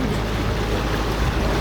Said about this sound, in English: huge waves crashing like right next to us